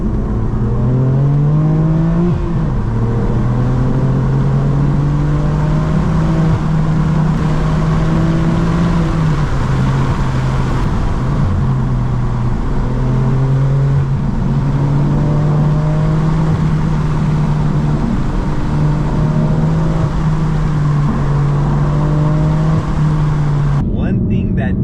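BMW M4 F82 with manual gearbox, exhaust valves open, driven fast: a loud, sustained engine drone from inside the car, rising and falling with acceleration and gear changes, steady and close throughout.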